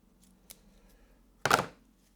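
A single crisp snip of scissors cutting plant stems in a quiet room, preceded by a faint small click.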